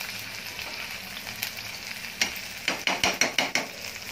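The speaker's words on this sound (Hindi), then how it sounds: "फिर अच्छी तरह से ये गार्लिक और ग्रीन चिलीज हम अच्छी तरह से पहले मिक्स कर लेंगे" Garlic and green chillies stir-fried for crispy corn chilli, with a soft sizzle under a run of sharp spatula knocks against the pan that quicken near the end, no voices.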